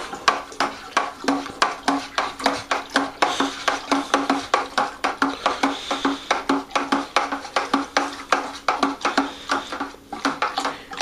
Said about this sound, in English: once it's in there, I'm going to stir like a lunatic